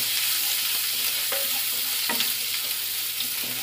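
Grated ginger and crushed garlic fry in a pan for dal makhani, giving a constant close sizzle with a few soft stirring scrapes and no speech.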